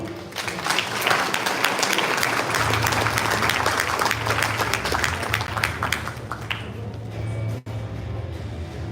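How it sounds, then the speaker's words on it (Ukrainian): Steady applause from a large audience at an industrial forum, many hands clapping continuously throughout, with a brief dip near the end. "Оплески."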